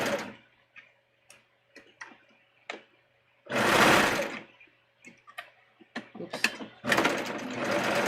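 A sewing machine stitches a swimsuit in short bursts of whirring with quiet pauses between them, plus one longer run near the middle. A soft voice speaks briefly.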